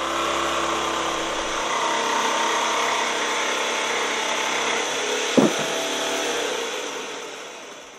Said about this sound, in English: I turn the saw on and swing it smoothly around to make the cut.